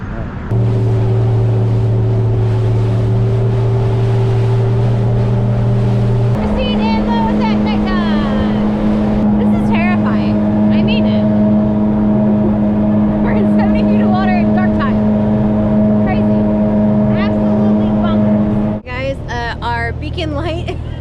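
Motorboat engine droning steadily during a night ride on the water, a loud close hum with shifting pitch, under occasional voices and wind noise.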